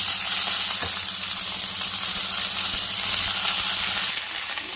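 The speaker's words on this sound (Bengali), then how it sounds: "দেখো কড়াইয়ে অল্প তেল আছে এই তেলের মধ্যে এখন বেগুনগুলো দিয়ে দেব" Eggplant strips frying in a little oil in a wok, giving a loud, steady sizzle and hiss that holds throughout, with a faint low rumble underneath and no talking.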